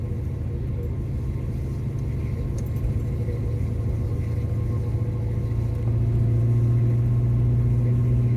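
A car engine runs steadily during a test drive, a continuous loud low rumble heard from inside the vehicle, with the drone stepping up and growing heavier near the end.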